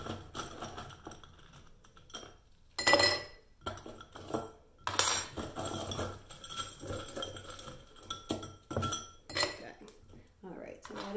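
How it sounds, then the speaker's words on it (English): Ice clatters into a cocktail shaker glass in a series of loud glassy clinks and rattles, with pauses and softer handling noise between bursts, close up. "And I'm going to add some more ice into my shaker glass."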